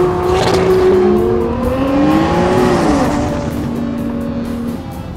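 A 1400-horsepower AMS Performance Alpha 12 Nissan GT-R, twin-turbo V6, pulls hard under heavy acceleration with a loud, sustained engine roar whose pitch climbs and shifts through gears, close and dominant throughout.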